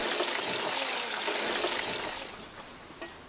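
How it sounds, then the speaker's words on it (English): Running water splashes and trickles steadily as food is rinsed during a Buddhist monastery's dining ritual, a close continuous gush that thins out toward the end, with no speech. "Wash the foods with water 3 times afterwards."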